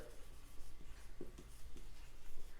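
Marker or chalk scratches on a classroom board in soft, irregular strokes, close and quiet against a low steady hum, with no voices.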